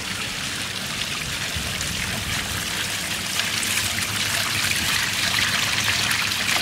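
Water trickles and splashes steadily through the filter channels of a gem-mining sluice at an outdoor mining attraction, a continuous close, bright flow without talk.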